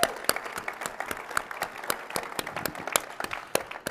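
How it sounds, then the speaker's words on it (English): Audience applause at a Drupal conference opening keynote in Portland, a steady patter of many hands with sharper individual claps standing out, moderately loud and continuous throughout with no voices over it. "A round of applause"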